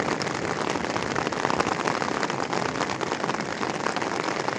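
Heavy morning rain in Gazipaşa, Turkey, pounds steadily on a surface nearby, a dense, continuous patter with no pauses.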